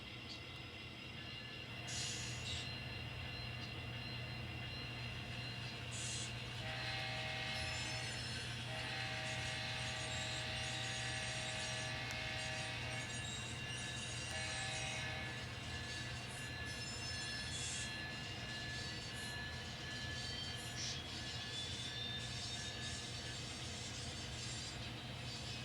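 A running N scale model train gives a continuous low mechanical rumble and whir on its track, with squealing and ticking from the wheels layered over the top for the whole stretch.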